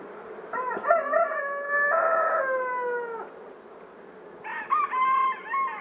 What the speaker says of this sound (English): Roosters are very vocal today.